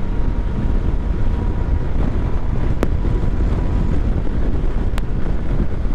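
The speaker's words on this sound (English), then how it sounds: "Wow, that wind." Strong wind buffets the microphone outdoors near a motorbike, a loud, continuous rushing roar with a couple of brief sharp clicks.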